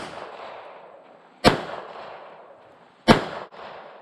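Two sharp, loud gunshots from a Smith & Wesson EZ380 pistol ring out about one and a half seconds apart, each cracking out of a steady background hiss and trailing off in a brief echo.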